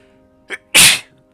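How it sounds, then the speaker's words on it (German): A single close, loud sneeze during a live Fortnite stream, preceded by a short sharp intake of breath and then a forceful burst. "Boah, ich muss auch so niesen, merke ich gerade."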